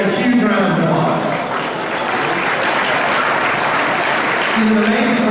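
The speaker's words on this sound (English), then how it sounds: "Let's give Gary a huge round of applause" A live audience gives a big round of applause for a photographer at an evening event, dense steady clapping filling the whole stretch at close range with some cheering mixed in.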